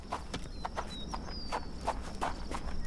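A horse in the Victorian London street setting of the game Sherlock Holmes The Awakened, with steady clip-clop hoofbeats at an even walking rhythm, moderately near and alone.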